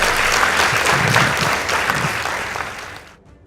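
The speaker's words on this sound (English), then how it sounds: "Please give them a round of applause" A loud, full round of applause for a secondary school girls' debate team, steady for about three seconds before tapering off.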